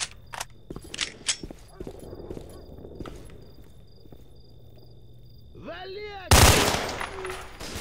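Gunfire from a rifle in STALKER: Shadow of Chernobyl, with sharp transient shots scattered through the first half and a loud, dense burst near the end, alongside a whooshing swept tone and a steady background hum.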